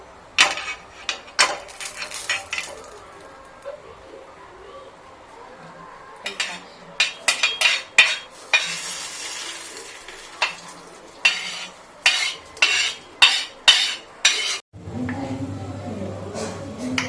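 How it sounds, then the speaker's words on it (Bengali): Coconut chutney for idli is stirred with a spoon in a pan, giving scattered clinks and scraping strokes. A hot tempering is poured in near the end, and a low sizzle rises up close. "এই ফোড়নটা আমি কিন্তু ফেলে দেব"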